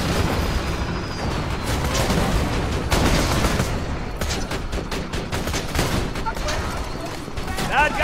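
Automated turret fire in Borderlands 2, with sustained rapid gunfire and booming impacts filling the scene while voices talk over the barrage.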